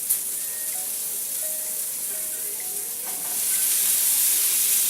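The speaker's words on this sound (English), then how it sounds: "And now we want to add our shrimp back in." Shrimp added to a pan with peppers and garlic set off a steady, close hiss of sizzling oil that swells louder toward the end, with faint stirring.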